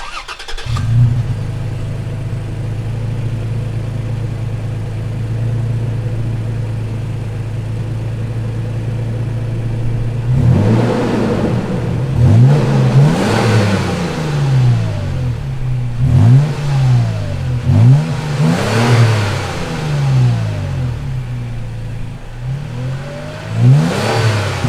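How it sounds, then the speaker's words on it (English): A 2018 Toyota Tacoma TRD Pro with a V6 and TRD exhaust idles steadily at first, then is revved repeatedly in sharp rising and falling bursts, loud and close. "the Pro comes standard with the TRD exhaust to make everything have a deeper sound"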